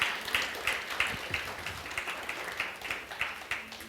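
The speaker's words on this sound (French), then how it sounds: "Est-ce qu'on peut applaudir le Seigneur," A congregation claps in church, a steady mass of applause with regular rhythmic accents like clapping in time, moderately loud and continuous throughout.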